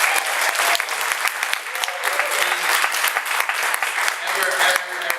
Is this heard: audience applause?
yes